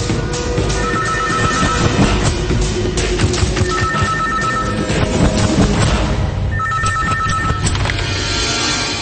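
A telephone rings in repeated electronic bursts, loud and close, cutting through a dense, busy background.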